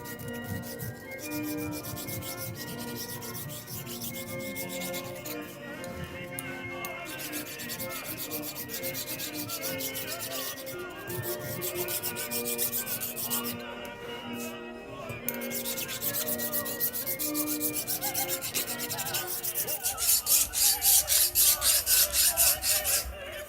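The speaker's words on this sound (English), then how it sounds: "For now, just a file." Continuous rasping scrape of a hand file smoothing metal for a bench-top anvil, steady strokes that grow louder and more rhythmic toward the end.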